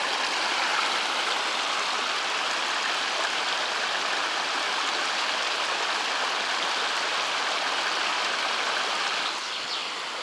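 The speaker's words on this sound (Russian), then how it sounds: "Бежит поток с горы, тает снег, и эта вода устремляется вниз." Snowmelt from a mountain stream rushes steadily downhill on Babya mountain, a constant broadband watery hiss with no pauses, close and fairly even in level for the whole stretch.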